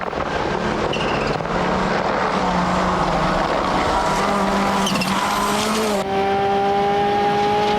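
Subaru World Rally Team rally car at Rally New Zealand 2000, racing close by with a loud continuous engine roar, shifting pitch through gear changes and a rising note near the end, joined by tire noise on the stage.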